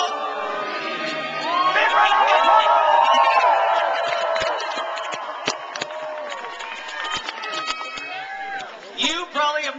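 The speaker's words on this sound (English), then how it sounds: "You probably have never got a round of applause like this in Canada." Crowd at an Olympic torch relay event in Shakespeare, Ontario, cheering, whooping and shouting loudly for several seconds, then easing off with scattered yells and a few voices near the end.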